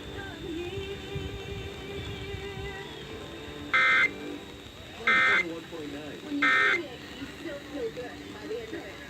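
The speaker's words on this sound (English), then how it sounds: "This is a test of the Iowa Emergency Alert System." Three short, loud buzzing Emergency Alert System attention-signal bursts from an Iowa required monthly test sound in a row, each about half a second long. Beforehand and between the bursts, a noisy broadcast background carries voice-like sound.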